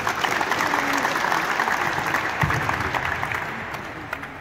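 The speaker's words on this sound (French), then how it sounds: "Je pense que vous pouvez l'applaudir" A crowd applauds at the opening of the FIBA Africa Youth Camp basketball training course in Casablanca, with a full round of clapping that stays strong, then slowly thins and fades toward the end.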